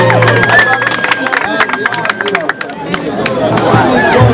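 A crowd at a hip hop show in Malindi claps and cheers for a rapper, a dense wash of applause and shouts filling the space, with a voice calling out over the noise.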